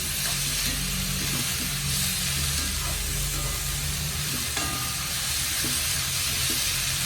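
Tomato pieces frying in a pan while making egg kurma give a steady, loud sizzle with faint stirring scrapes throughout, with no talking.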